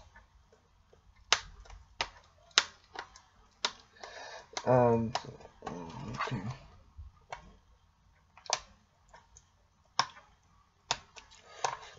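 Packaging of a Super Smash Bros. Ultimate game is picked at and pried open with sharp clicks and taps at uneven intervals, plus a brief crinkling stretch. A person speaks briefly between the clicks.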